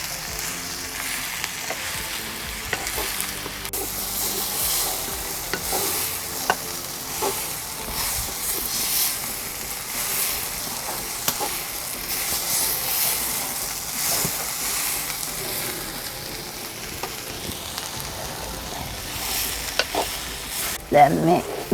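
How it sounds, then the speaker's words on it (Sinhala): Strips of ash plantain fry in a pan while a spoon stirs them, a continuous sizzle with scraping and clinking from the stirring throughout. "දැන් හොඳට කවලම් වෙන්න හැඳි ගන්නවා"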